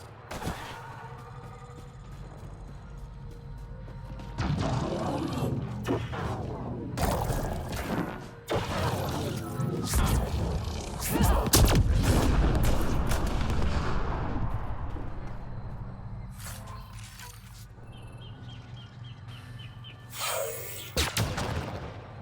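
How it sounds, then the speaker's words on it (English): Biotic explosions and combat blasts from the video game Mass Effect Andromeda, a run of loud booming impacts and crashing bursts spread across the passage, with brief quieter gaps between. "there's nothing more satisfying than biotic explosions"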